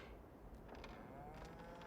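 Cattle lowing in the Farming Simulator 22 game, faint moos set against a low, steady ambient background.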